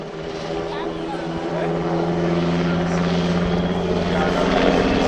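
An NHIndustries NH-90 medium utility military helicopter flies a demonstration, its loud, steady rotor and turbine drone building slightly in strength, with a voice faintly underneath.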